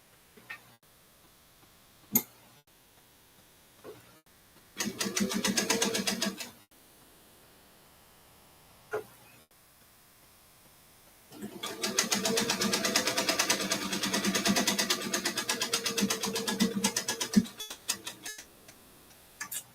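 A sewing machine runs in two bursts, a short run and then a longer stretch of rapid rhythmic stitching, with sparse ticks and clicks in the quiet between them.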